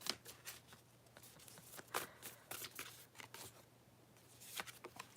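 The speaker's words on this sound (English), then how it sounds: "I'm shuffling this deck." A deck of tarot cards is shuffled by hand, a quick series of soft riffling and flicking bursts, close and quiet, with no talking.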